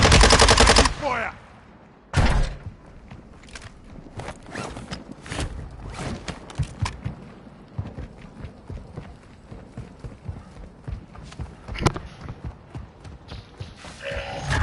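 Video game gunfire crackles through the clip: a loud opening burst, then scattered shots and rapid bursts of varying loudness carry on throughout.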